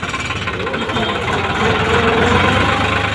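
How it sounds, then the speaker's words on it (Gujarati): New Holland tractor engine runs close by, a loud steady diesel chugging with a rhythmic knocking throb and no talk. "શું એમનું ટ્રેક્ટર છે ન્યૂ હોલેન્ડ"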